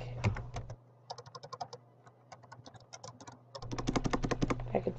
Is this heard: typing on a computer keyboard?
yes